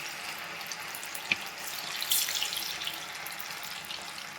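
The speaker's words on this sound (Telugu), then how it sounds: "ఇప్పుడు ఒక్కొక్క పీస్ ఆయిల్లోకి వేసుకుంటూ డీప్ ఫ్రై చేసుకోవాలి" Chicken pieces deep fry in hot oil for street-style chicken fried rice, producing a continuous hissing sizzle with an occasional sharp pop, moderately loud and without talk.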